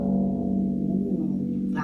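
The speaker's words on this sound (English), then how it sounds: "Should we find out what the bottom one sounds like?" The lowest, longest string of a harp rings after a pluck, a deep sustained tone that decays slowly, close and alone.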